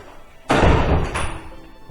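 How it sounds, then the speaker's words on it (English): Heavy door of an old prep school building closing: one loud, close slam with a deep thud, then a lighter knock of the latch and a fading rumble. "Just the sound of the door"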